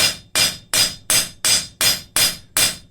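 Steady hammer blows planish hot steel flat on an anvil while forging a scraper, about eight bright, metallic clangs in an even rhythm, close and loud, alone.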